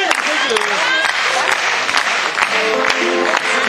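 Audience clapping steadily at an outdoor Sankt Hans midsummer evening gathering by a mill pond in 2008, dense and continuous throughout with voices mixed in the crowd.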